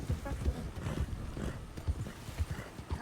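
Horses' hooves clip-clopping on hard ground, a close, rhythmic clatter of several animals that slows down as they come to a stop.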